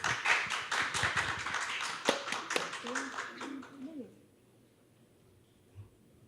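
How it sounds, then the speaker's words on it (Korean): Audience applause welcoming panel speakers at an AI book launch and forum, a few seconds of fairly quiet clapping with voices mixed in, then dying away into near silence. "모두 큰 박수로 모시겠습니다."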